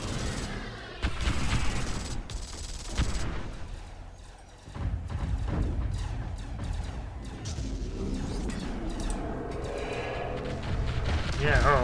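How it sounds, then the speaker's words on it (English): A big salvo of torpedoes launched from cruisers in the space strategy game StarDrive, a dense rumbling barrage of blasts and booms that rolls on steadily, with a voice talking over it. "Big salvo of torpedoes launched from the cruisers"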